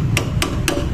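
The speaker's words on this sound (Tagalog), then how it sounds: "Tapos kukupukin natin ang martilyo" A hammer strikes three times at an even, quick pace while a motorcycle front shock is installed on a Yamaha Aerox V2. The blows are sharp and close over a steady low background hum.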